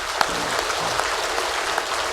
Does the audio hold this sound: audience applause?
yes